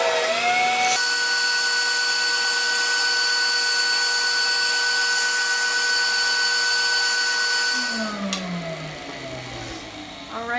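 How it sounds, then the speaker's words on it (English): A workshop dust collector runs with a loud, steady roar and high whine, continuous for several seconds before spinning down with a falling pitch near the end. "So let's turn the dust collector on and get going on that one."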